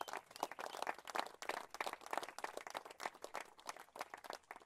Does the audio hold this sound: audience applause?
yes